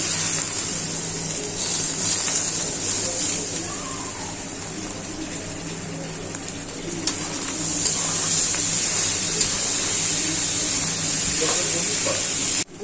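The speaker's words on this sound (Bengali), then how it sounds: "এখানে আছে আলু, গাজর, এটা আমি দিয়ে দিচ্ছি, ভাজা হবে।" Potatoes and carrots sizzle in a pan while noodles are being cooked, giving a steady, loud frying hiss that runs throughout with slight swells and dips.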